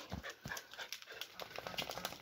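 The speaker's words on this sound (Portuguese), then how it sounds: "Todo mundo latindo." Several dogs bark faintly in the distance, in scattered, overlapping yaps against a quiet background.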